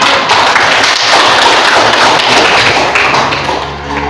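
Classmates clapping together in a classroom, a steady dense patter of many hands lasting several seconds at fairly close range, with no talking over it.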